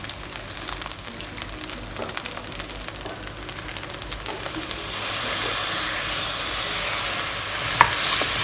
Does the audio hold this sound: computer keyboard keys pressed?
no